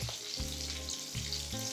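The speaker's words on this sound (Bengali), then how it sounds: "তেলটা হালকা গরম হয়ে আসলে আমি এখানে দিয়ে দিচ্ছি প্রথমেই আস্ত জিরা" Whole cumin seeds sizzle in hot oil in a kadai with a dense, continuous crackling hiss, close and fairly loud, under a steady low hum.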